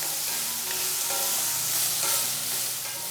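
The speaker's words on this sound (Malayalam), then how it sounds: "വെണ്ടയ്ക്കയും ചേർത്ത് കൊടുത്തതിന് ശേഷം നല്ല രീതിയിൽ തന്നെ ഇതെല്ലാം ഒന്ന് വഴറ്റിയെടുക്കാം" Chopped okra stir-fries in hot oil over a medium flame for a Kerala vendakka dish, giving a steady, close, bright sizzle with faint stirring scrapes throughout.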